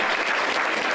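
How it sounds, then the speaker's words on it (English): Applause at an agency awards ceremony, a steady dense wash of many hands clapping at once, filling the whole moment evenly and fairly loud. "So let's give a round of applause."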